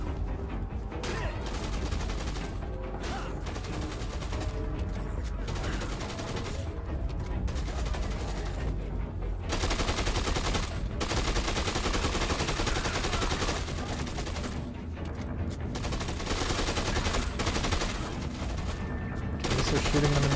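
Sustained rapid gunfire mowing down hard-hat-wearing zombies in the video game Dead Rising 2: Off the Record, loud and nearly continuous, with bursts layered over a game soundtrack and a voice speaking at times.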